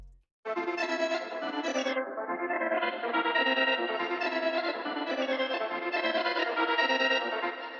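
A sustained, bright synth-like sample drenched in reverb, swelling and shifting in tone with a dip partway through, playing alone after a brief silence.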